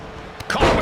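A wrestler's knee strike lands in a WWE 2K match as one short, dull thud after a brief lull, trailing into arena noise.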